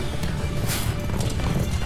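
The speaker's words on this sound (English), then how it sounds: "Nice horse chase." Horses gallop in a TV chase scene, with busy, continuous hoofbeats and rumbling action sound throughout.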